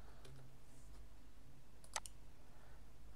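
Computer keys clicking as a search is typed, followed by one sharper, louder tap of the enter key, faint and close against a quiet room hum.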